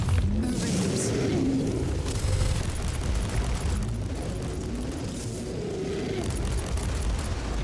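Fire attack explosion in Inquisitor Martyr: a dense, roaring blast that rumbles on steadily throughout, loud and close, with a voice talking over it.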